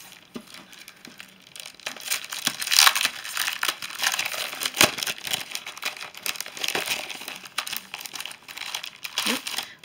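Papercraft pattern papers, 8x8 pastel designs from a Crafters Companion subscription box, rustle and crinkle as they are unwrapped and handled, with soft crackling crumples and brief sharp crinkles running steadily throughout, close to the microphone.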